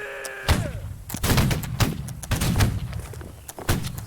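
Gunfire in a team shooter game, a quick string of sharp, loud shots in uneven bursts, close and punchy, with game sounds beneath and no clear talking.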